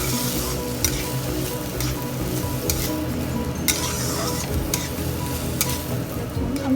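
Soaked rice for Bengali pulao fries gently in a pan over a low flame. A continuous sizzle runs under repeated sharp scrapes and clicks of a spoon stirring against the pan, with no one speaking.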